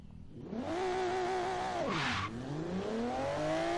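A maxed-out Volvo S60 in Forza Horizon 3 roars up through the revs, dips briefly at a shift with a short burst of tire noise, then climbs again in a loud, continuous racing-engine pull.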